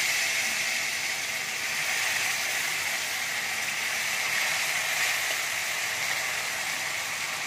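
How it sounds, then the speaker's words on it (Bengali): Chopped tomato frying in hot oil gives a continuous bright sizzling hiss that stays loud and even throughout, with no voices. "এবার আমি টমেটো কুচি করে রেখেছি সেটা দিয়ে দিচ্ছি।"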